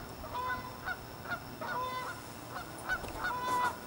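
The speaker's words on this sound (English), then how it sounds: "I hear a goose." A goose honks repeatedly outdoors, the calls coming in a loose series from some distance over steady background noise.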